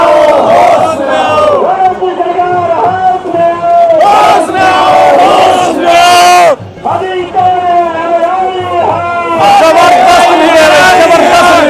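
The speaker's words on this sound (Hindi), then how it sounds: "कर्मचारी शिक्षकों की ऐसी भीड़" A dense crowd of employees and teachers shouts and chants together at a pension-restoration rally in Karnaprayag, loud and continuous, with raised voices swelling in waves and brief dips.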